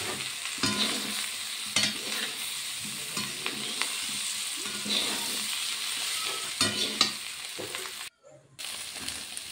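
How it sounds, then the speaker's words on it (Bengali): Fried soybeans with spices, potato and tomato stirred in a hot pan, a steady close sizzle broken by repeated scraping stirs of a utensil against the pan, with no voices. "এবার সবগুলো একসঙ্গে ভালোভাবে নেড়ে চেড়ে কষিয়ে নেব।"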